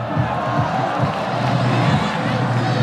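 A football stadium crowd during a Saudi league match between Al Nassr and Damac roars and cheers, a dense steady wall of massed voices with no clear breaks.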